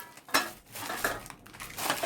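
Steel bowls and a glass bought for Dhanteras and Diwali are handled and set down, with a few scattered clinks and knocks between softer rustling, no one speaking.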